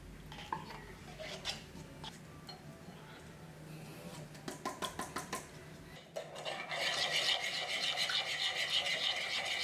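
Key lime yogurt is scraped and spooned from containers into a mixing bowl, with soft clinks of a spoon against the bowl, a run of quick taps, then steady wet stirring and rubbing toward the end.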